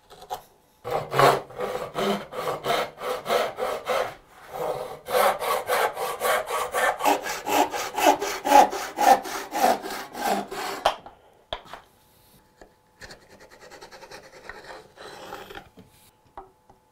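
A hand saw cutting a piece of wood to length for a bedside table drawer, a rhythmic back-and-forth rasp of rapid strokes for about eleven seconds, then a few faint follow-up strokes after the piece parts.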